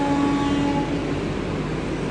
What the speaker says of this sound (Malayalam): പുറകീന്ന് ഹോൺ അടിച്ചു.